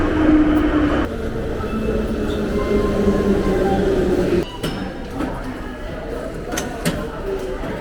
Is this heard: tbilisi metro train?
yes